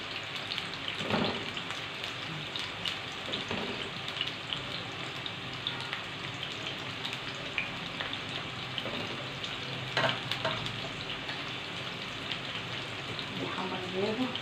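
Cauliflower frying in hot oil, a steady crackling sizzle with soft stirring sounds, continuous and moderately close, with occasional faint voices in the background.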